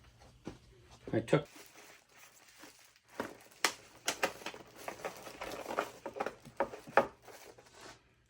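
Sheets of plastic bought at a craft store are handled and cut for a caragana root woodturning bowl project, giving scattered crinkling, rustling and tapping bursts close by, mixed with intermittent talking.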